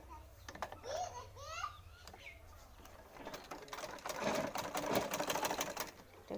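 A sewing machine stitches piping onto a pajama cuff in short bursts of rapid mechanical chatter, with brief pauses between runs and a quiet voice audible in places.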